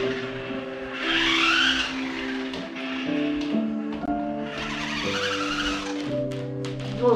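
A small toy RC car drives around with a whirring, rising-and-falling electric motor whine and bursts of high-pitched scuffing as it accelerates, close by with brief background noise.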